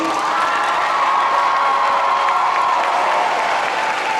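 Large crowd at a music awards ceremony applauding and cheering people on stage, a loud, continuous roar of clapping mixed with shouts and whoops, including children's voices.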